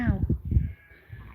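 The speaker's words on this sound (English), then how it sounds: "Look at my lambs." Lambs give a short, loud bleat up close, a wavering cry that quickly fades, leaving a quieter tail where a faint second call can be heard.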